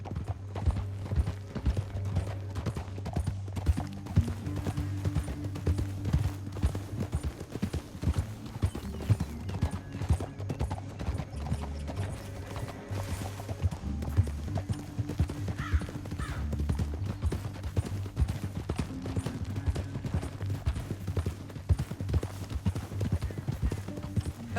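Horse hooves clop steadily at a quick pace in Red Dead Redemption 2, fairly faint and constant, with a brief whinny and some indistinct voices mixed in.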